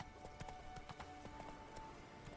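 Roach, Geralt's horse in The Witcher 3: Blood and Wine, gallops in a steady rapid clip-clop of hooves at moderate distance, continuous over ambient game sound.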